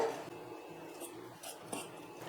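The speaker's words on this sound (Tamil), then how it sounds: "ஒரு பாத்திரத்தில் உருளைக்கிழங்கு சேர்த்து மசிச்சுக்க போகிறேன்" Peeled boiled potatoes are mashed in a vessel for bread potato fingers, giving a few faint, soft squishy presses and light scrapes against the pot, heard up close with no talking.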